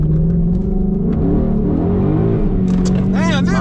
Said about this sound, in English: Let the truck go past real quick.